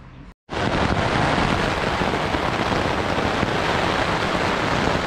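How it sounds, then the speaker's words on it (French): Heavy thunderstorm rain hammers a camping tent, a dense, loud, unbroken roar that starts abruptly after a brief silent gap and then stays steady. "Ça tombe dru, j'ai juste eu le temps de monter la tente. Ça tombe fort. Gros orage."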